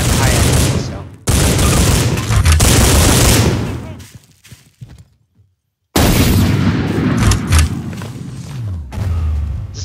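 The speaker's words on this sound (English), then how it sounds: "he dies because of the scavenger's explosion" Garry's Mod gunfire and scavenger weapon explosions: dense loud bursts of shots and booms that cut out into a short near-silent gap, then resume just as loud and chaotic.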